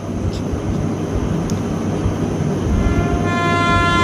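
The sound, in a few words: train departing, audiobook sound effect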